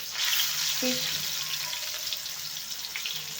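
Bangda mackerel frying crisp in a pan makes a bright, continuous sizzle with bursts of bubbling and crackle, close and steady for the whole stretch.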